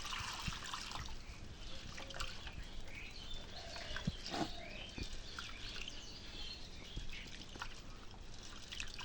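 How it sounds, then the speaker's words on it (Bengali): Water trickling and splashing steadily as chickpea lentils (split chana dal) are rinsed in a kitchen, a continuous soft dribble with faint bird chirps in the background and no talking. "আজকে বুটের ডালটা ধুয়ে নিই"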